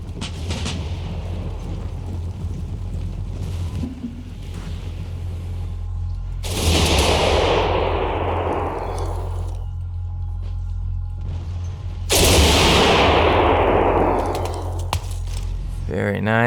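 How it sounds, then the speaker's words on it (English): Musket volleys and cannon fire thunder across an Empire Total War battlefield as French musketeers close in on a village, with two big booming blasts over a constant rumbling din. "Loud shots going off"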